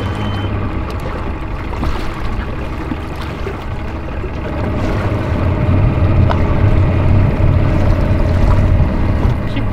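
A bass fishing boat's motor turns over and settles into a steady, building rumble, loud and close, with wind and choppy water noise around it.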